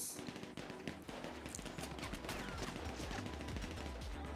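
Rapid automatic gunfire in the video game GTA Online, a dense continuous burst of shots with sharp repeated cracks over a loud game soundscape, with no talking.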